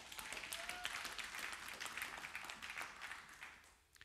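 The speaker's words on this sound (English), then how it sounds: "Can we clap hands for God?" Church congregation clapping hands during a worship service, a fairly distant, steady wash of applause that fades out toward the end.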